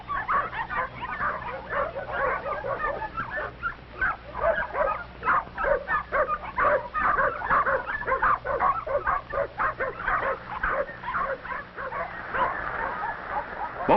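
A mother dog barks a warning, a dense run of rapid, loud, close barks and yips that continues without a break, with some whimpering mixed in.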